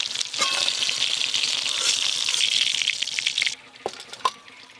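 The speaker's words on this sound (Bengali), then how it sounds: "হালকা করেই তো ভাজা করছি" Hilsa fish frying lightly in a pan gives a bright, dense sizzle that crackles steadily, then drops away near the end to a few faint spatters and clinks.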